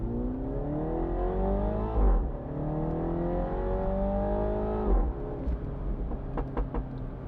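Mini Cooper launching at full throttle with traction control off, engine revs climbing in strong sweeps through the gears, brief dips at each shift, loud and close from inside the car.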